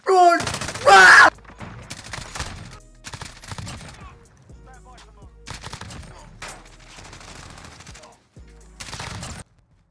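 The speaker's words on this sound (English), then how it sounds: "Who the fuck is shooting?" Gunfire in Modern Warfare 2019 online multiplayer, a loud opening burst followed by scattered sharp bursts of shots at varying distances, with a player's voice in between.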